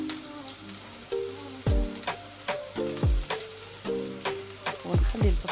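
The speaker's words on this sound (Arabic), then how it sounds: "راهي تتقلى" Onion frying in a pan gives a steady, close sizzle, with several sharp clinks and scrapes of stirring spaced through it.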